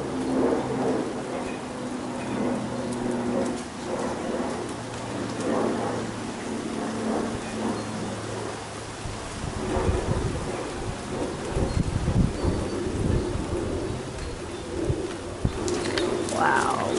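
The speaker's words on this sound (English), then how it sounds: "Wow, love this rainstorm." Steady rainstorm with thunder at the start of an overcast, drizzly thunderstorm: continuous rain hiss with low rumbling thunder rolling through the middle, birds calling faintly in the background, no talk.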